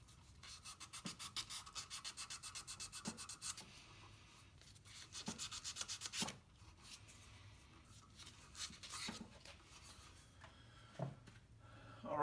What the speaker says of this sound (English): Got some little scratches here. Sand those with the grain.